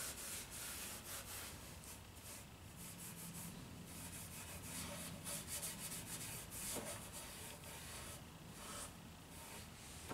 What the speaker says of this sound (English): what I was using was triple aught steel wool